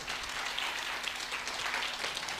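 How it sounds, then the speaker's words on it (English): Audience applause at a Commonwealth literature and language studies conference keynote, steady clapping from a crowd that is moderately distant and fairly quiet, lasting the whole short stretch. "A round of applause for thespians, please."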